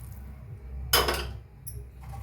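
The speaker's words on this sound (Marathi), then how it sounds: "आता ह्याच्यात ओतूया आपण गरम पाणी." Hot water hits roasting masala in a pan for egg masala curry, giving one brief, loud hissing splash that fades into a quiet kitchen with a faint clink afterward.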